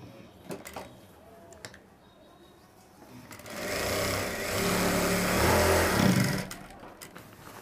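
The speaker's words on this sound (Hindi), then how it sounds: "अब सिलाई लगा देंगे। सिलाई के ऊपर सिलाई लगाएं तो ज़्यादा बेहतर रहेगा।" Sewing machine stitching along the back armhole seam of a shirt, a steady mechanical whir starting after a few quiet handling clicks and running for about three seconds before slowing to a stop.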